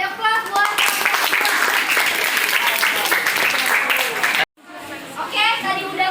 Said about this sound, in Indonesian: Oke, beri aplaus buat.